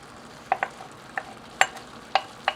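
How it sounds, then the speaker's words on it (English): Egg mixture going into a pan of onions, ginger and garlic with the heat off, giving faint scattered clicks and light scraping of stirring over a quiet hiss. "now we turn off the heat and add our egg mixture"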